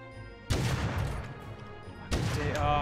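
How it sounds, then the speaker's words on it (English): Gunfire in the survival video game Rust, two loud close bursts of shots with a rattling, crashing texture, the second starting near the end. "Shots are so close."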